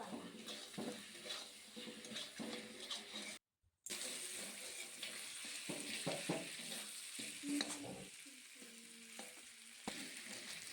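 Mutton pieces sizzle and fry in a pan while being stirred and scraped, a steady loud frying hiss with repeated utensil scrapes and a brief silent gap partway through.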